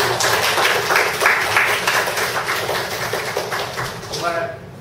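A church congregation at a Sunday morning service breaks into loud, dense applause that carries on for several seconds before tapering, with a voice speaking over it.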